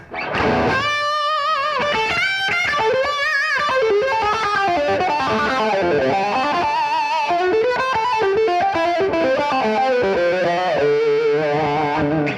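Electric guitar played through heavy distortion, a loud, sustained bluesy lead line with bending, singing notes running continuously without talk.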